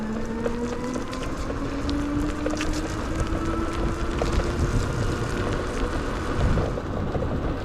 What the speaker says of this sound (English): we're gonna initiate the throttle full, and we'll see how long it takes to get to its class 2 maximum of 20 miles an hour